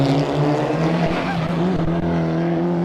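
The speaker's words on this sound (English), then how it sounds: "You can hear the turbo." Turbocharged rally car accelerating hard uphill toward a chicane on a Mt Lofty rally stage, a loud, close, strained engine note with rising harmonics and brief turbo hiss, continuous with no talking.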